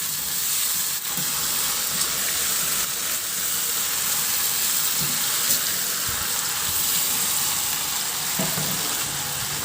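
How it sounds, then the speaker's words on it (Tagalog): Chicken feet simmering with soy sauce and oyster sauce as the liquid reduces, giving a continuous loud, dense bubbling sizzle throughout with a few faint utensil knocks, no voices. "Ihalo lang hanggang sa mag-reduce lang din yung toyo at oyster sauce."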